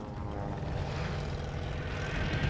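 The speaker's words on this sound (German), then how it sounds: "Ein Flugzeug!" A propeller airplane flies over in the shooter Call of Duty: Vanguard, a droning engine rumble with a steady buzzing tone that swells slightly louder toward the end, heard on its own.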